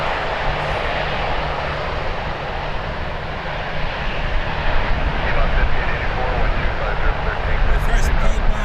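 A jet-engine Airbus A321neo airliner at Toronto Pearson airport roars steadily and loudly, the broad rumble swelling slightly toward the end, with a person talking over it.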